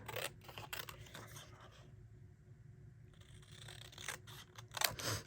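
Scissors trimming paper for a mini record craft project, close crisp snips and scraping in quick clusters at the start and end, with a quieter pause between.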